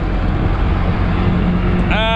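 A Kawasaki Ultra jet ski's steady low engine rumble drones at idle on the water while circling, with rushing wind noise, loud and continuous, and a brief rising whine near the end.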